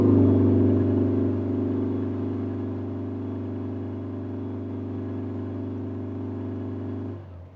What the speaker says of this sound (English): let's go ahead and do that pull from 3500 to 8200